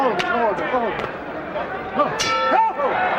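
A boxing ring bell clangs several times to close round four of the 1987 Mike Tyson vs. Pinklon Thomas heavyweight fight, ringing out over steady arena crowd noise.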